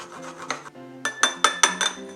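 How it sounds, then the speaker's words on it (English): Fresh ginger root rubbed against a kitchen grater, a run of short rasping scrapes in an uneven rhythm, close and fairly soft with nothing else heard. "for our ginger, you want to take a grater and grate it"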